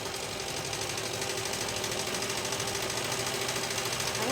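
An electric sewing machine stitches a kameez suit in a close, loud, continuous whir with a fast, even mechanical rattle that never pauses.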